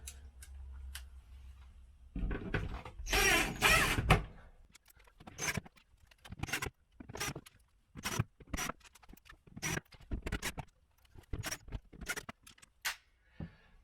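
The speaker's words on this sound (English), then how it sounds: "Now, quickly put a few screws in." Screws being driven into a plastic case during reassembly: a string of short, sharp ticks and scraping clicks in an irregular rhythm after a louder rustling handling noise, close and fairly quiet, with no talking.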